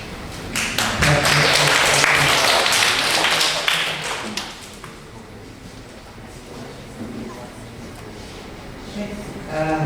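Audience applause for student presenters at a high school SDGs conference, a dense burst of clapping for about four seconds that then fades into quieter room noise and scattered taps.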